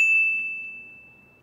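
A single bright notification bell ding rings out with a sharp attack, then its pure tone fades slowly over about a second and a half, alone without any talk.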